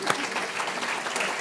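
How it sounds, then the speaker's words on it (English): Audience applause fills a room at a post-budget breakfast, a dense, steady wash of many hands clapping at moderate volume throughout. "Give yourselves a clap."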